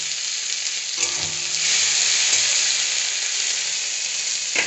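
Chopped tomato tipped into a pan of frying onions, a loud close sizzle that flares as the pieces land and settles into a steady hiss.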